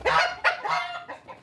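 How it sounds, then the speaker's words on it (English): A broody hen guarding her egg gives a run of loud, close calls in several short bursts, harsh and honking in tone, with no other sound around them. "might have a broody hen here."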